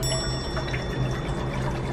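300 millilitres of water pours steadily and continuously into a vessel for black bean noodles, a close, even splashing rush with no speech.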